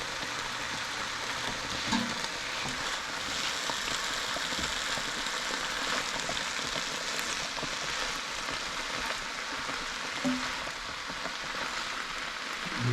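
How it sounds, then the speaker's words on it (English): Cabbage frying and being stirred in a pan as part of a fried cabbage dish, a dense continuous sizzle that stays at an even level throughout with occasional faint scraping, no speech. "I'm over here trying to stir the cabbage"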